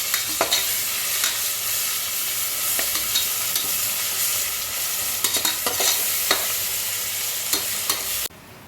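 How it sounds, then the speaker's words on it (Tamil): Ginger garlic paste stirred in a pan for chicken biryani, with a steady hiss of frying oil and repeated clinks of the spoon against the pan throughout, close and continuous. "அதையும் போட்டு நல்லா கிண்டி விட்டுக்கலாம்."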